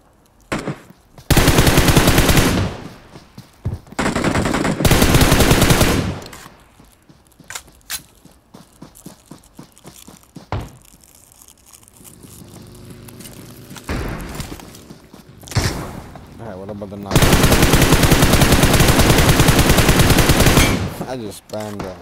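Dense automatic gunfire from the PUBG Mobile video game comes in loud sustained bursts with short gaps, plus a few quieter single shots and some faint footsteps between them.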